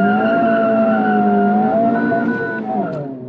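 Honda Civic Type R accelerating hard with traction control switched off, a loud sustained engine note climbing steadily in pitch up close, with a shift-like dip near the end and no talking.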